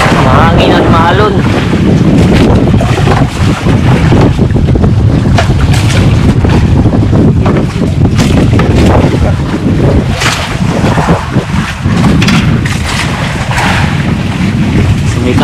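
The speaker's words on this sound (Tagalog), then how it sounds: "Mahangin at mahalon." Strong wind buffets a small outrigger fishing boat at sea in rough water, loud gusting microphone roar with splashing waves and hull knocks, while people talk at intervals.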